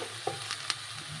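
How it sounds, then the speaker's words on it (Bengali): Radish, potato, eggplant and beans being stir-fried in a pan, a steady sizzle broken by a few soft scrapes and clicks of stirring. "এবার বেগুন আর সিমগুলো সব দিয়ে দেব, দিয়ে আবার নেড়ে চেড়ে ভেজে নেব।"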